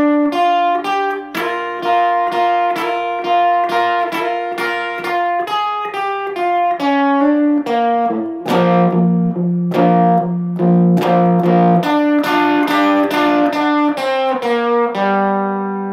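Electric guitar with effects playing a song intro slowly, distinct picked notes and double-stop bends in a steady rhythm, loud and alone.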